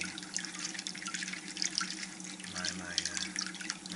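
Steady running water pours and splashes into a container, a continuous close hiss with faint dripping, no voices.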